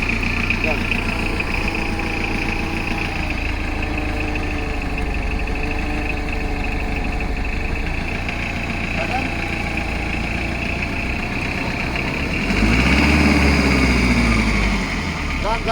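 A small engine idles steadily and loudly throughout, a constant low rumble that swells briefly near the end.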